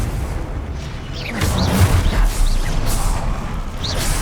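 Confringo blasting spell in Hogwarts Legacy bursting into a rumbling, crackling explosion, with low booms and swishing magical effects rolling on loudly and continuously.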